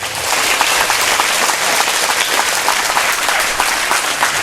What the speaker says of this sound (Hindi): ताली बजाकर परमेश्वर को महिमा दे।